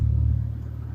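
Car driving along a road past shops, a loud steady low engine rumble and road drone heard from inside the cabin, with no talking.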